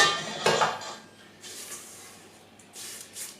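A silicone spatula scrapes butter and sugar loose from the bottom of a mixing bowl for a Nantes cake, giving a few soft, close rasping strokes with brief pauses between them.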